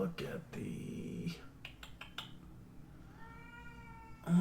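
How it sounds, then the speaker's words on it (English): Cats meow loudly indoors, first a long, drawn-out complaining yowl, then shorter cries and a rising wail, close to the microphone. "If you can't hear my cats, they're bitching."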